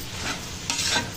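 Ginger garlic paste stirred into curry with oil in a pan, a brief close scrape and soft sizzle with a sharper stirring stroke partway through.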